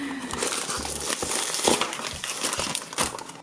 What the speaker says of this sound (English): let's get started by opening up our package